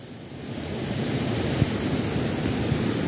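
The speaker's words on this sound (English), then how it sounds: "sorry about all the water noise" Steady, loud rush of water pouring over a spillway, a continuous broadband roar with no pauses or voices.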